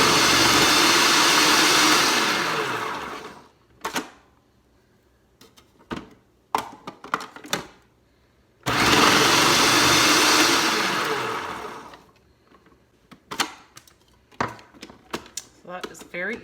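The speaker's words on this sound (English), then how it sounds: "So we're just going to throw it in the food processor" Food processor slicing red onion for pickling runs in two loud bursts of whirring motor, each about three seconds, separated by clattering handling noises and brief talk.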